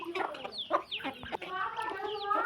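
Several free-range chickens cluck and chatter continuously at close range while pecking and foraging, with overlapping calls that rise and fall without pause.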